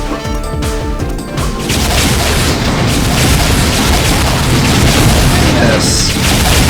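Rocket launcher blasts boom out in an Unreal multiplayer deathmatch on the DmMorbias map. Loud, heavy explosions hit at the start, then crashing, rumbling blast noise keeps filling the whole stretch.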